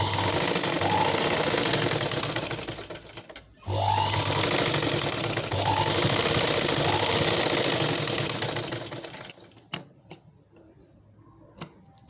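A sewing machine runs steadily, stitching a blouse with a fast, even whir that pauses briefly once. It then stops, leaving a few scattered ticks and clicks.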